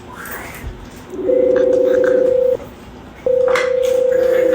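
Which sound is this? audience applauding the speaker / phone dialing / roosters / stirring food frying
phone dialing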